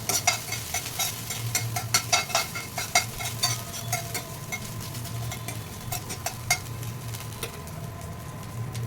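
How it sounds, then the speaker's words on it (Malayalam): Ginger-garlic paste and chopped green chilli are stirred in a hot pan while making chicken noodles. Close, repeated spatula scrapes and clicks ride over a steady sizzle, with no voices. "അതിലേക്ക് കുറച്ച് ഒരു ശകല ഇഞ്ചിയും വെളുത്തുള്ളിയും ഉള്ള പേസ്റ്റും പിന്നെ ചെറുതായിട്ട് അരിഞ്ഞ പച്ചമുളകും വെച്ചിട്ട് നമുക്ക് ഇളക്കി കൊടുക്കാം"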